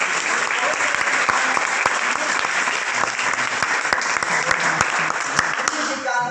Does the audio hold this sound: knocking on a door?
no